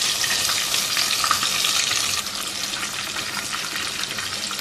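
A cup of tomato paste cooks in a hot pan after a brief sauté, giving a loud, steady, close sizzle and bubbling hiss with faint stirring, easing slightly midway.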